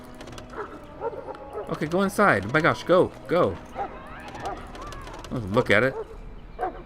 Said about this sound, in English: I heard the dog barking.